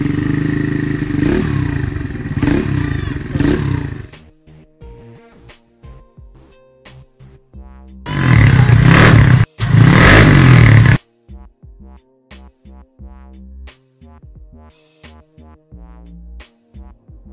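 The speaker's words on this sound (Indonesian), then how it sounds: "tadi udah kelar dirapin mesinnya, terus sekarang juga udah nyala" A restored Yamaha Mio Soul scooter engine runs close by, a loud idle broken by two strong revving bursts, then dropping back to a lighter, uneven running note.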